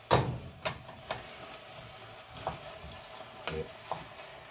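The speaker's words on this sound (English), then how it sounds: "Give these ones a stir too." Spoon stirring home-grown tomatoes in a pot for homemade passata, a series of light scraping knocks spaced about half a second apart over a soft steady background hiss.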